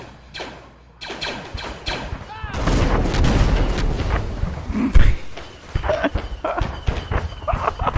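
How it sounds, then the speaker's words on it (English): A massive nuke-style explosion in the Arma 3 Star Wars mod rumbles in with a heavy low boom around the midpoint, sustained roar and crackling debris following, over scattered gunfire and voices. "That was a fucking nuke"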